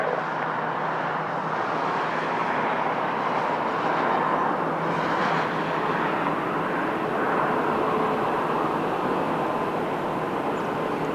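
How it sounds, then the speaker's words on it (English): A jet airliner rumbles at Lisbon Airport during takeoff, a loud, steady broadband engine roar that swells slightly midway and holds for its whole length. "So let's go for another takeoff."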